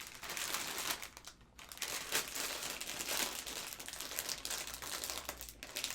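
Roasted garlic potato chip bag from the Czech Republic crinkling and crackling as it is torn open, a steady close, busy rustle lasting several seconds with no talk.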